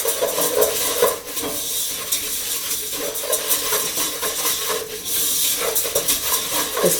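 Spices and lentils are stirred in a hot pot with turmeric, a steady sizzling hiss under soft scraping strokes of the spoon, close and continuous.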